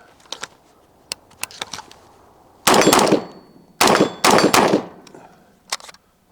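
A firearm without a suppressor finishes off a magazine at an outdoor range, with a few sharp, loud reports clustered together after scattered lighter knocks and clicks.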